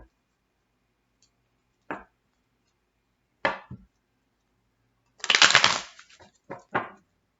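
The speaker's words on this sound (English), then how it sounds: "Spirit said two more shuffles" Tarot cards are shuffled in a few separate bursts, with short riffles early on and a longer, louder flurry of shuffling near the end, close and clear with no talking.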